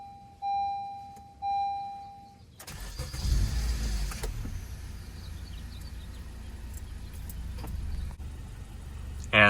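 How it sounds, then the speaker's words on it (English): A 2016 Honda Accord Sport with an older key fob: two short electronic chirps, then a quick crank as the engine catches and settles into a smooth, steady idle nearby. "let's fire up the Accord"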